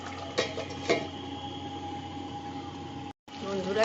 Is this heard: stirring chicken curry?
yes